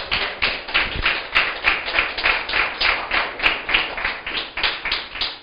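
Church congregation clapping in praise during a Spanish-language sermon, a steady rhythmic beat of claps in regular waves, moderately loud and continuous with no talk over it.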